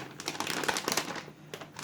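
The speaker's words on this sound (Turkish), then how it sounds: "yavaş yavaş antistatik poşetini çekiyorum" Antistatic bag slowly pulled off an ASUS ROG Strix X570-F Gaming motherboard, giving a close run of soft crinkling and rustling plastic with small irregular crackles and a brief lull near the end.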